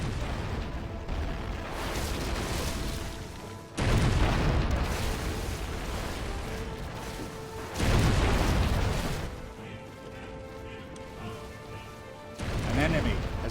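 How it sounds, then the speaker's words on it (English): A ship destroyed by an enemy blows up in the strategy game Anno 1404, sounding as a few heavy booming crashes spaced seconds apart over a steady rumbling game din. "An enemy has destroyed your ship."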